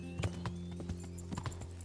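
Horse hooves clop in an uneven rhythm within the game Kingdom Come Deliverance, quiet and fairly close over a steady low hum, with a brief snort among the steps.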